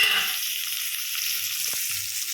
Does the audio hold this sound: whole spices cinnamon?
yes